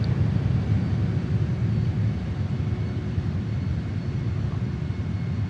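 Steady, loud roar of a Saab JAS 39 Gripen jet engine in Microsoft Flight Simulator 2020, a dense continuous rumble with no breaks.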